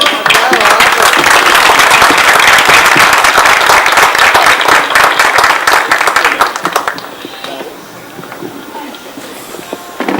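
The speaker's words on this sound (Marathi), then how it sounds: "आपण सगळ्यांनी उभं राहून टाळ्यांचा कडकडाट करावा" An audience at a youth oratory event in Pune rises to give Sachin Pawar a standing ovation: loud, dense clapping fills the room for about seven seconds, then fades to a quieter murmur.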